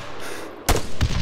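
Two sharp, loud gunshot bursts in ArmA 3, the first near 0.7 seconds and the second about a third of a second later, over a steady low background hum.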